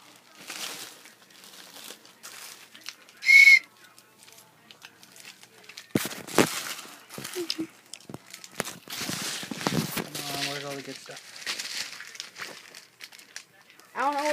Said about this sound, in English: when you blow this whistle